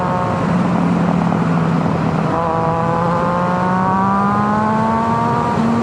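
A 2011 Triumph Daytona 675R with a Werkes exhaust pulls hard under acceleration, its engine note rising steadily through the gears, loud and continuous with wind rush.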